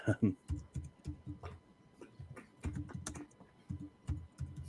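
Keys clacking on a computer keyboard in quick irregular bursts, fairly close, with soft background murmur between the strokes.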